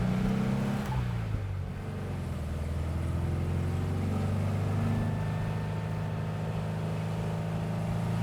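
A 1964 Porsche 356 SC 1600 Cabriolet drives up Mount Helix, its engine droning steadily from inside the car, shifting pitch once early on before holding a smooth hum.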